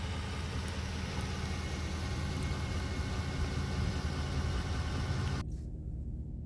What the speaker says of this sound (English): exhaust is so deep and so mellow outside the truck, you'd never know that it was there.